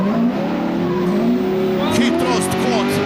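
A roaring Toyota drift car enters a corner with a handbrake pull at a Driftstars round in Logatec, its engine droning loudly while the tires squeal and skid, with a commentator talking over it.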